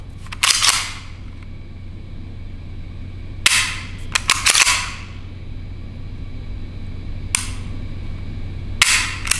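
Shots from an H&K USP Expert pistol crack sharply and loudly, in separated single reports and quick pairs with a short ring-off after each, and no voices are heard.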